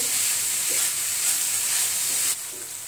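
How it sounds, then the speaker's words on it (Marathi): Mixed vegetables sautéing in a pan for paneer fried rice give off a loud, steady hiss and sizzle, close up and unbroken, easing slightly near the end, with no voices. "इथे आपण एक 5 मिनिटं या सर्व भाज्या परतून घेऊ।"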